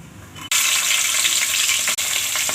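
Cumin seeds and whole garam masala spices hit hot ghee, bursting into a loud, bright, steady sizzle close by, with a brief dip in the frying hiss partway through.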